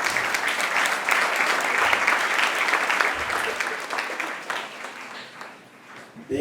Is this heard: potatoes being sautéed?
no